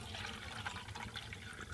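Water left from boiling potatoes is poured into a heavy canteen cup at a winter hot-tent campsite, making a soft, continuous trickle and splash.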